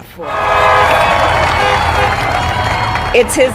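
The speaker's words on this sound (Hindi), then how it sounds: "एक एक लाइन पर तालियां बजा रहा था।" A large crowd in an open stadium applauds and cheers for Kamala Harris's speech, a loud dense wash of clapping and roaring that swells and holds for a few seconds.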